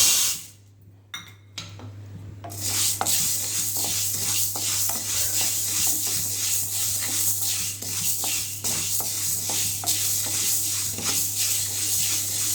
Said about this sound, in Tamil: பச்சை பயிரை வறுத்துப்போம்